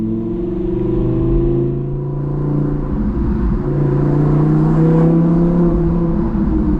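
A 1000-horsepower Audi R8 engine drives at night in Miami, a steady loud droning rumble with shifting harmonic tones that swell and ease as it pulls along, continuous throughout with no voices.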